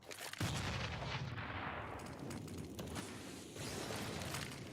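Gunfire from a professional CS:GO match on the Cobblestone map, with a sharp loud onset followed by a sustained barrage of shots and crackling blasts throughout.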